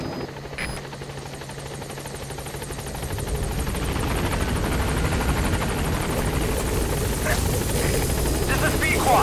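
Support helicopter arriving in the video game Metal Gear Solid 5, a steady rotor drone that swells gradually louder as it approaches, with game radio voices speaking over it.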